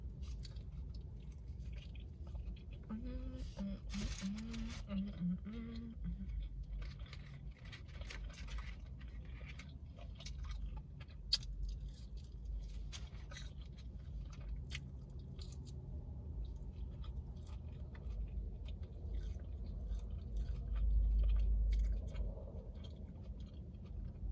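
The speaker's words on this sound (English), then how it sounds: "I'm tired of chewing" Someone eating Jack in the Box fast food close up, with soft, continuous wet chewing and smacking sounds over a low background rumble for the whole stretch.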